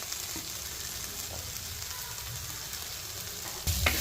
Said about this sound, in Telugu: ఇదిగోండి అల్లం వెల్లుల్లి పేస్ట్ కూడా వేసేసుకుందాము.